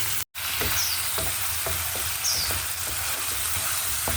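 Chicken adobo sautéing in a pan until golden brown gives a steady, close crackling sizzle with occasional stirring scrapes, continuous throughout apart from one brief dropout near the start.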